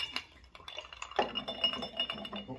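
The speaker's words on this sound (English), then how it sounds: "We're playing with the ice cube." An ice cube clinks and rattles against a glass of bourbon, with a few close, bright taps and a swirl of light clatter at a quiet level.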